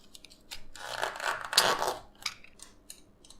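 Close-up blade cutting and scraping through rubber handlebar grips on a moped or pocket bike, a cluster of rasping slices building in the middle, then a few short scratchy strokes trailing off.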